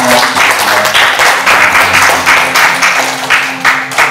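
Loud applause from a hypnosis workshop audience in a Denpasar hotel, in rolling bursts of clapping, with faint musical tones sounding underneath.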